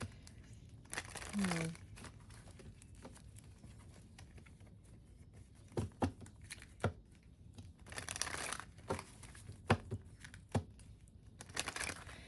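Tarot-style cards shuffled and drawn during a card reading, giving scattered papery rustles, flicks and soft slaps in irregular bursts close by over a quiet background.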